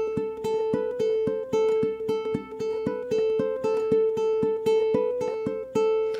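Ukulele picking a minor-key rock riff, the same first bar looped three times in steady rhythm, close and clear with plucked notes and no voice.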